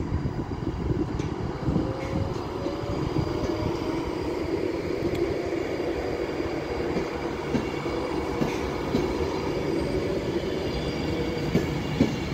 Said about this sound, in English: coming in behind me is a cross-country Voyager from Manchester Piccadilly to Bristol Temple Meads